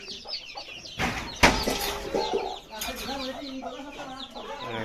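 Local village chickens cluck and squawk close by in a coop, with a sharp burst of flapping or commotion partway through and murmured talk in the background.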